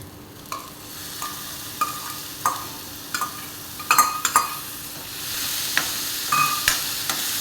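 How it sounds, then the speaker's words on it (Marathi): Cooked urad dal stirred and sautéed into a spice masala in a pan for amti: a steady sizzle runs throughout, broken by repeated scraping strokes of a spoon against the pan at an irregular, unhurried pace, close and fairly loud, with no talking. "जरा परतून घ्यायचं चांगलं थोडंसं"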